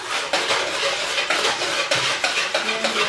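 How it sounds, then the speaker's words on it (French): Chin chin dough being mixed in a bowl, making repeated close scraping and clinking of a utensil against the bowl in a steady rhythm, with no speech. "Vous mélangez bien en fait jusqu'à ce que vous ne sentez plus de grumeaux et tout."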